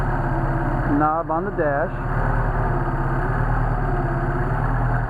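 A Mercedes 190SL engine idles on Solex carburetors while the choke is feathered. A steady, low, even hum runs the whole time beneath someone talking close by.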